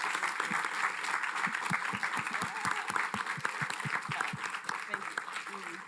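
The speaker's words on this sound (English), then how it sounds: "let's give her a loud and warm hand of applause" An audience at a World Affairs Council event in Washington, D.C. gives a warm round of applause, steady dense clapping with voices audible underneath.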